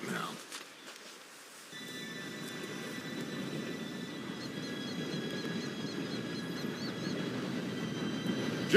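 A train arrives in the video game Red Dead Redemption 2. A low rolling rumble swells in after a quiet start and grows steadily louder, with thin high squealing tones above it and voices faintly under the noise.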